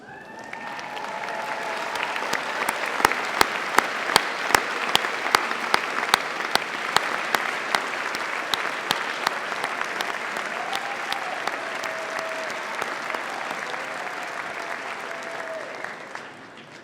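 University graduates stand and applaud their families and friends at a graduation ceremony in Birmingham, a long, dense, sustained round of clapping from a large crowd in a hall, with sharp close claps.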